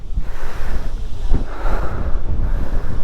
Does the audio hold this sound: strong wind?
yes